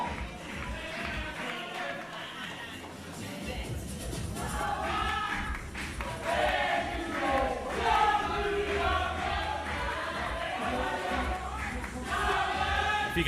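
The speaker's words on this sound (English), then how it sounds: "You can hear this, the quality of the singing in the crowd has deteriorated massively as the night has worn on" A crowd at a cue sports knockout match sings in a ragged, continuous chant that fills the room at moderate loudness, with murmuring and shuffling mixed in throughout.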